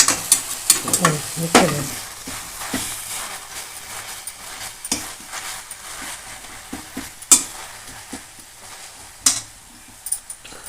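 Sorrel leaves (puli keerai) frying in oil are stirred with a spoon, giving scattered scraping clinks and soft crackle over a low sizzle, busier in the first couple of seconds.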